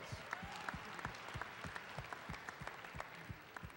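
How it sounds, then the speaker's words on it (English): Audience applause at a university speaking event where a Boston Celtics captain appears, a steady crowd clapping texture with distinct nearby hand claps standing out, fairly faint and even throughout. "Give him a round of applause."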